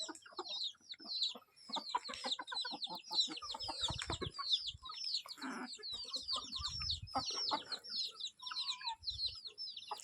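Desi country chickens clucking and chirping almost continuously in a flock, dense overlapping calls with scratchy movement noises, close by and fairly loud.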